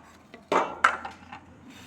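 A bowl of rice being set out for a meal, with two crisp clinks of dishware in quick succession followed by a softer knock, close and clear in a quiet room.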